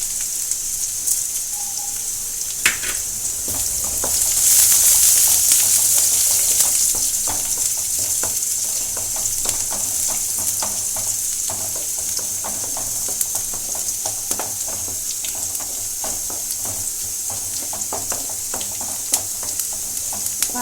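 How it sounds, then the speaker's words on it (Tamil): Onions sizzle steadily in a hot frying pan, with frequent scraping taps of a spoon stirring, heard up close without any talking. "வெங்காயம் நல்லா வதங்கி வந்துட்டு"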